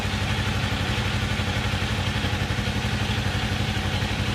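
A Kawasaki Eliminator motorcycle engine idles up close, a steady, even low throb with a fine mechanical clatter, constant in level throughout with no revving.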